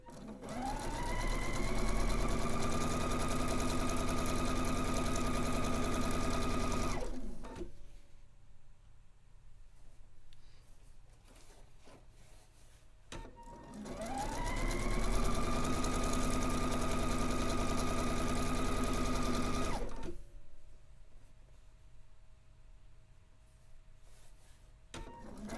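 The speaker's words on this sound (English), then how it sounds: "And then we'll sew the rest of the strip." A sewing machine stitches a long strip of fabric in two sustained runs of loud, even motor hum, each lasting several seconds, separated by a quieter pause of handling noise.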